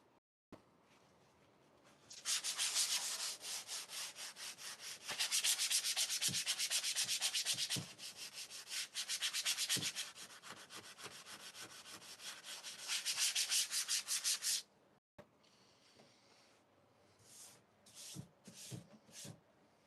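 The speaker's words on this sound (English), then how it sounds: "to sand that real quick" Sanding rasps back and forth across plywood in long, loud, rhythmic strokes for over ten seconds, pausing briefly between runs, then gives way to a few shorter, lighter scrubbing passes.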